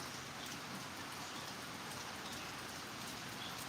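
Steady rain falls continuously, a dense hiss of drops striking surfaces nearby, with no voices.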